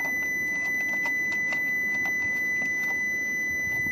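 A Prizma Omega perimeter security system sounds a steady, continuous high-pitched beep, alone and unbroken, over faint background noise and a few soft clicks.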